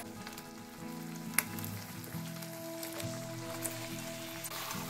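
Boiled jackfruit frying with spice masala and fried potatoes in a pan, a soft even crackling sizzle like light rain, with a few faint stirring taps and a steady background hum.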